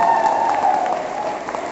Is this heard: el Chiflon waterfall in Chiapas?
no